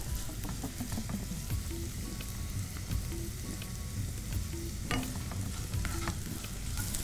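Finely chopped onion with a little salt sizzles and fries in a pan, a steady crackling hiss broken by the scrape and clatter of stirring, close by and with no talk.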